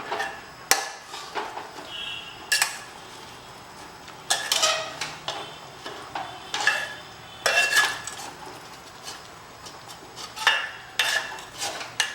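Mutton leg in broth and water being pressed and stirred in a pot with a metal utensil for Awadhi musallam raan, giving repeated scraping clinks and knocks against the pot in an irregular rhythm, close and moderately loud, with no talking.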